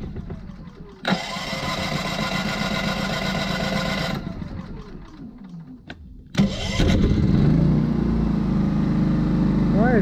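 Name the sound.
Champion 3400-watt dual fuel generator engine starting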